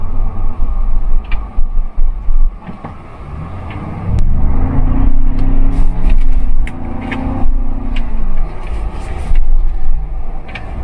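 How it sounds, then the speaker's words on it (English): 2024 Ford Bronco V6 engine humming steadily from inside the cabin while driving in normal mode, a low rumbling drone that swells under acceleration with faint creaks and mechanical rattles. "This thing is pretty fast, and the V6 sounds so nice."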